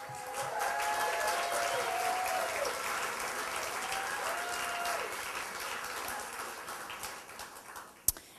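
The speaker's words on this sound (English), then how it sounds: "Let us applaud you." Audience applause at a marriage-equality celebration event, a steady dense wash of clapping from a crowd that fades slightly toward the end, with faint voices underneath.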